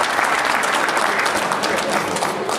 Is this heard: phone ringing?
no